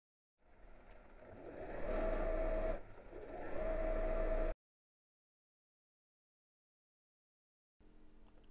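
A sewing machine stitches along the top edge of a Christmas stocking and its lining, a steady motor whir running for about four seconds with a short dip midway, then silence before it starts again.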